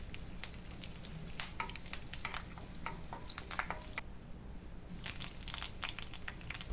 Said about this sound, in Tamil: கட் பண்ண 2 பச்சை மிளகா போட்டு இதோட 4 கொத்து கருவேப்பிலை இதையும் போட்டு இதை நம்ம லேசாக தாளிச்சிக்கலாம்